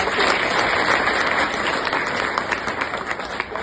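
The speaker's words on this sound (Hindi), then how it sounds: "इसके लिए भी एक बार आप सब तालियां बजाओ" An audience at a village gathering bursts into dense, close applause honouring the local sarpanch, a thick, steady roar of many hands that fades a little toward the end.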